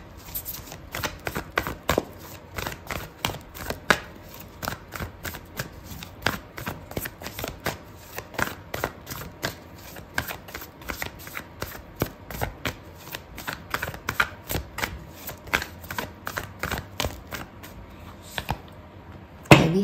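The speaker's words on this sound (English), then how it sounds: "I'm going to pull out an oracle card for you" A deck of oracle cards is shuffled close up, with quiet, rapid papery riffles and flicks repeating irregularly throughout, ending in a slightly louder snap.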